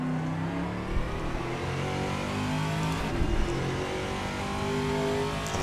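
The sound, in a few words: race car engine revving in sim racing video game (Assetto Corsa)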